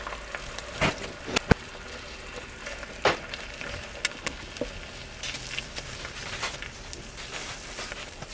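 Butter and a cracked egg sizzle in a Nostalgia MyMini electric skillet, a steady soft crackle with a few sharper pops and taps, close and moderately quiet with no talking.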